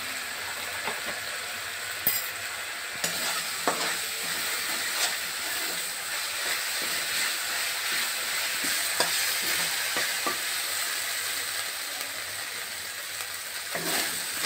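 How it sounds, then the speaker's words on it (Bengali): Spices sizzling in a hot pan after Kashmiri chili powder is added, a steady frying hiss broken by scattered clicks and scrapes of stirring throughout. "এবারে আমার মশলাটা ভাজা হয়ে গেছে, এর মধ্যে আমি জল দিয়ে দেবো।"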